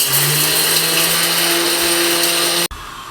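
Electric spice grinder whirring as it grinds cinnamon and black pepper, a loud steady high-pitched motor whine that cuts off abruptly near the end.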